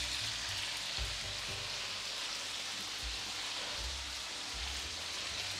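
Chopped tomatoes softening in a pot over lowered heat, giving a steady close sizzle and bubbling hiss with a few soft knocks from the pot, no talk.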